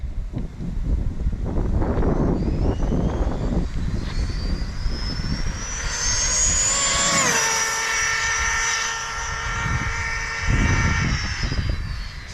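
TLR Typhon RC car on a 6S battery accelerating hard, a loud rising electric whine that climbs steeply in pitch then drops away, over gusty wind noise and rumble.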